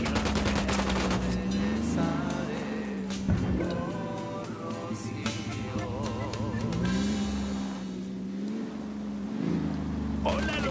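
Gunfire in the video game Ghost Recon Wildlands, with rapid automatic bursts and single shots crackling over a running vehicle engine and game sound, dense and continuous throughout.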